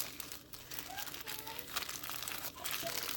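Plastic bag being folded for a DIY toddler weighted blanket, giving close, continuous soft crinkling and rustling throughout.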